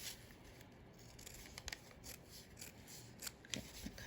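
Scissors snipping through paper while cutting out a doll dress pattern piece, a run of short crisp cuts with a few louder snips toward the end, close and fairly quiet with no talking.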